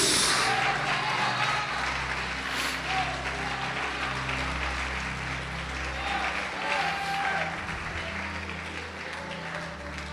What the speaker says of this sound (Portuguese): Pode aplaudir e glorificar Jesus.